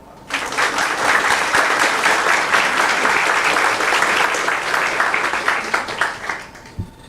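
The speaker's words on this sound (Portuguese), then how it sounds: "Vamos aplaudir?" An audience at a law lecture in São Paulo breaks into loud, sustained applause, a dense wash of clapping that swells quickly, holds for several seconds and then tapers off.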